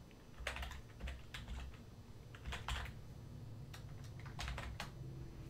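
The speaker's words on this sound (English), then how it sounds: "Double checking our spelling and our typing here." Fingers type on a computer keyboard in quiet, uneven bursts of soft clicking keystrokes, faint and close, with short pauses between runs.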